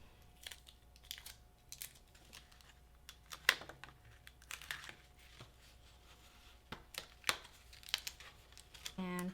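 Sticky tape is pulled and torn off the roll in short crackling bursts, with soft handling rustles between them in a quiet room.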